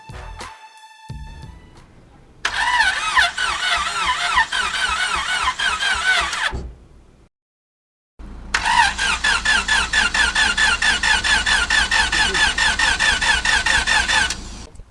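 A car engine with an engine swap cranks with a whining starter, stops, then cranks again, each attempt long and loud with a repeating grinding pulse, close by.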